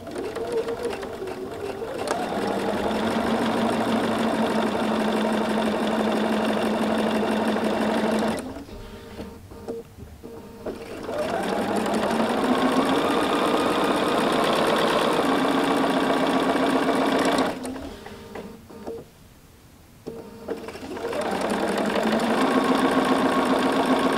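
A sewing machine with a 97D walking foot, dual feed and straight stitch plate runs steadily, stitching pieces for a Flying Geese quilt block, a close mechanical whir in three long runs separated by short pauses.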